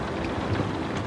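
Rain falls in a dense, continuous hiss with a low rumble underneath, steady and fairly loud throughout, with no voices.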